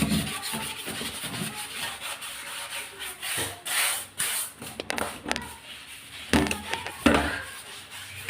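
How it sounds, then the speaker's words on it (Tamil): A dish scrubber rubs across a zinc sink crusted with salt stains from water, making close, uneven scraping strokes in irregular bursts with short pauses between them. "நான் பாத்திரம் கழுவுற ஸ்க்ரப்பர் தான் எடுத்துருக்குறேன்"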